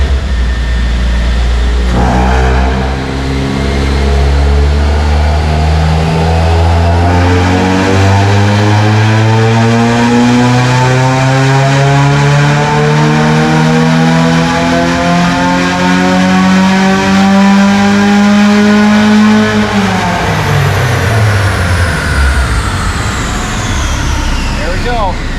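An Ecotec-swapped Mazda Miata revs hard through a dyno pull, its loud engine note climbing steadily for about eighteen seconds before dropping sharply as the throttle closes, then winding down.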